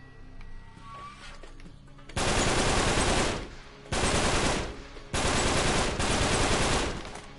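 Gunfire in an Uncharted: Drake's Deception shootout, with three loud sustained bursts of automatic fire separated by short pauses, close and dominant over a quieter background.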